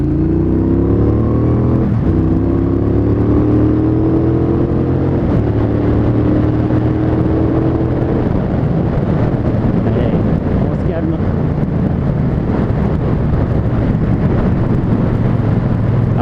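Triumph Bonneville Speedmaster motorcycle accelerating on an open road, a loud engine drone rising in pitch through the first half, then settling into a steady roar buried in heavy wind rush against the microphone.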